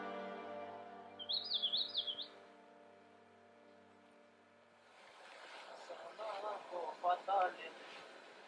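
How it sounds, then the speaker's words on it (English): Birds sing near the top of a high mountain pass on a trek on the north side of Everest, a warbling phrase rising early, then wind noise, then another trilling burst of song further along, clear against an otherwise quiet backdrop. "Wonderful bird singing."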